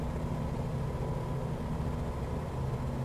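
Steady, droning propeller-plane engine hum from Microsoft Flight Simulator, a low rumbling tone running unbroken and fairly faint throughout, with no voices.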